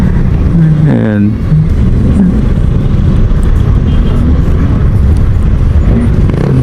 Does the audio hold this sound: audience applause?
no